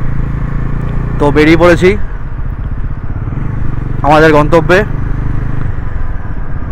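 A motorcycle rides along a road with a constant low engine drone, and someone speaks twice over the running bike.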